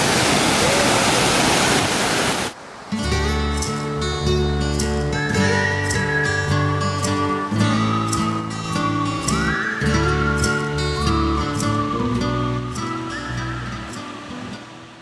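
Water rushes loudly at a waterfall and stream by a cliffside campsite at Phutara Glamp, a dense roar for the first couple of seconds before it cuts off and tuneful music takes over.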